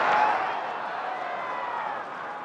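A baseball stadium crowd roars steadily for pitcher Shohei Ohtani on his return to the mound. The broad, sustained cheering swells briefly at the start and then holds at an even level.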